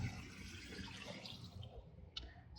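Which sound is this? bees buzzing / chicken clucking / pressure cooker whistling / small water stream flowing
small water stream flowing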